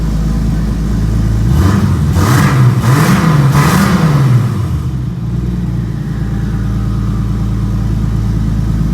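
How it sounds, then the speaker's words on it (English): A right-hand-drive long-roof car with a turbocharged BMW S52 engine accelerates hard, its revving engine note rising in pitch over a few seconds before easing off, with a faint turbo whir over a steady, droning engine hum. "Could hear the turbo a little bit there."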